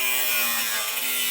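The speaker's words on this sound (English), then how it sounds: "And I'm going to be using a grinder with a cutoff wheel on here to get this out." An angle grinder with a cutoff wheel cuts through a 2018 GMC truck bed during a gooseneck hitch install, a steady high, hissing grind that is loud, continuous and close, with no talk.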